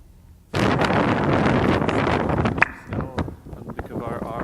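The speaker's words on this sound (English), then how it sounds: "I have a little video clip I'll show just how windy it was" Strong wind buffets the microphone during a lake crossing on Great Bear Lake. Loud, roaring gusts begin abruptly, then ease into choppier bursts.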